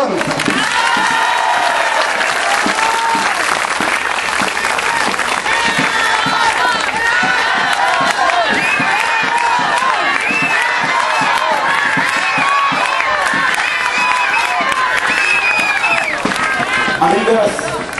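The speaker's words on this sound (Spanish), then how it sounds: "Un aplauso a nuestro líder Salomón." Loud, dense crowd applause and cheering at an outdoor campaign rally, clapping and shouts sustained for the whole stretch, close and full, with voices mingling in.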